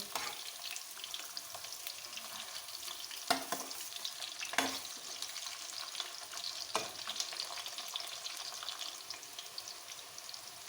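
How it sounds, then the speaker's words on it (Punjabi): Stuffed bitter gourds (karela) frying in oil in a pan give off a steady, quiet sizzle, with a few brief scrapes as they are turned, heard alone without talk. "ਇਹਨਾਂ ਦੀ ਸਾਈਡ ਬਦਲ ਬਦਲ ਕੇ ਇਹਨਾਂ ਨੂੰ ਚੰਗੀ ਤਰ੍ਹਾਂ ਫਰਾਈ ਕਰ ਲਾਂਗੇ"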